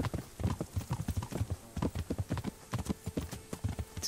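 Horses ridden side by side through villages in the video game Kingdom Come: Deliverance clip-clop steadily, a continuous rhythmic patter of hoofbeats at moderate volume with no talking.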